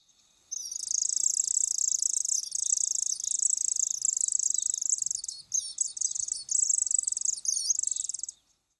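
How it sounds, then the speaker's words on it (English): A white-crowned sparrow gives its harsh rasping call used in altercations, a long, high, buzzy trill in two stretches broken by a short gap. It is clear and close, with a quiet background. "They also make a harsh rasping call used by sparrows during altercations."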